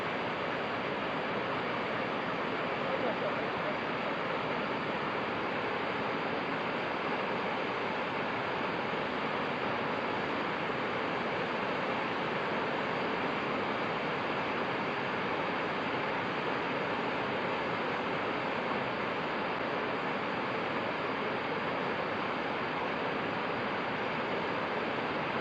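Waterfall on the Tosna river: a steady, unbroken rush of falling water that stays even and fairly close for the whole stretch, with no voices over it.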